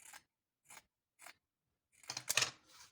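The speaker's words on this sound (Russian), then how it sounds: "срежу лишнее" Steel scissors trim excess fabric from a quilt block: three crisp, separate snips close to the mic, then a longer, rougher burst of cutting.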